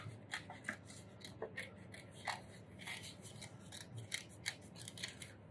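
Scissors snip through a paper photo for a collage in a quick series of close, crisp cuts and faint paper rustles, with no voices.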